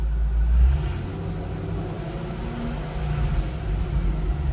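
A 2008 Corvette engine runs after an intake re-seal, giving a low, steady idle rumble close by with a slight swell in revs, and no speech.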